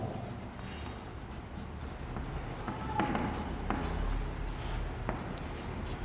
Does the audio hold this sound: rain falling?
no